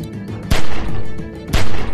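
Game gunfire in The Walking Dead: 400 Days sounds as two loud, booming shots about a second apart, each trailing into a heavy rumbling tail, with no speech over them.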